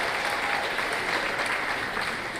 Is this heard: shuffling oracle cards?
no